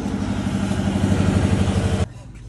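A motorcycle engine idles nearby with a steady, rough, low throbbing rumble that drops off suddenly near the end, leaving quieter background noise.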